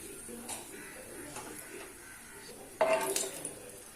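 Roasted wheat flour for atta laddu is tipped from a pan onto a plate, heard as a sudden close clatter of metal and dishware followed by brief scraping over a quiet kitchen background.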